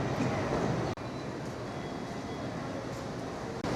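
A train arrives at a Swiss station, a loud, steady rolling and rumbling roar with a brief dip near the start and another near the end.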